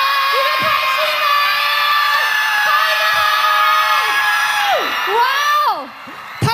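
A large outdoor crowd at a 2013 Christmas concert in New Taipei City screams and whoops loudly in sustained waves, with shrill cheering that rises and falls before dropping off near the end.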